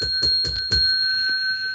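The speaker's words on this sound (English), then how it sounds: "I gave you some bonus rings there." A hand bell rung several times in quick succession, bright sustained metallic tones with strong ringing overtones, loud and close, then left to decay alone.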